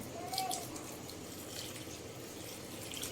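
Running water splashes steadily into a pot while cooking beef shami kebabs, a continuous close-up pouring sound with faint background noise.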